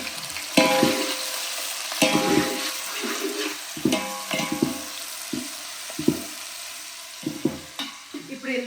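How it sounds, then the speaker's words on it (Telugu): Onions fry in a pan for mutton dalcha, a close, steady sizzle broken by repeated scraping stirs of a utensil against the metal. "మటన్ మటన్ కట్టాకి ఉల్లిపాయలు వేసేసుకున్నాం."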